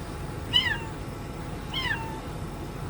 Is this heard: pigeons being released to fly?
no